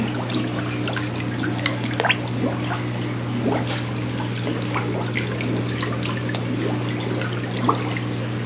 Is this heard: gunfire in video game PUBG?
no